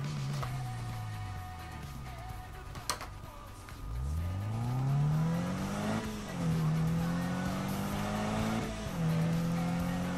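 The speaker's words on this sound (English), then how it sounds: "This car handles pretty well." A Subaru BRZ races in the Need for Speed video game, its engine note rising and falling through gear shifts with tire squeal in a sprint race, loud and continuous throughout.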